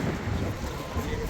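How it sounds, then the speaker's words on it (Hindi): Strong wind sweeps past at a roadside fuel stop beside mountains, a rough, continuous buffeting rumble pressing on the microphone for a brief moment. "हवा चली हुई है बहुत।"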